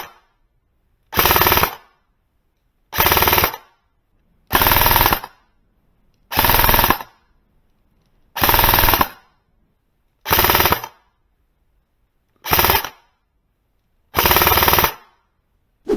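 E&L AK airsoft AEG with a full upgrade build fired on full auto at a range, in eight loud bursts of about half a second each separated by silent gaps, with no talking.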